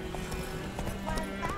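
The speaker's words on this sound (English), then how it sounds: "What is that horse doing?" Horse in the video game Witcher 3, with steady clip-clopping hooves and a short whinny over a continuous game soundscape.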